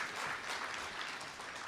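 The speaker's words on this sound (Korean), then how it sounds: "뜨거운 박수로 맞이해주시면 감사하겠습니다." Applause from an audience at a public panel interview in Gwangju welcoming a citizen panelist, a steady, dense wash of clapping that holds evenly throughout and sounds somewhat distant.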